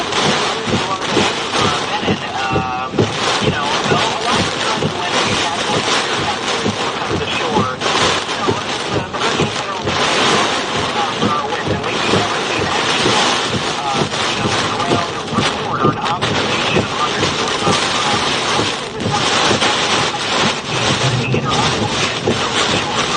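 Roaring hurricane winds during Hurricane Helene's landfall, a constant loud buffeting rush battering the microphone throughout, with someone talking under the din.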